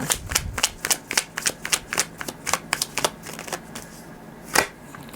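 Tarot cards being shuffled, a rapid run of crisp riffling flicks up close that thins out toward the end with one final louder snap.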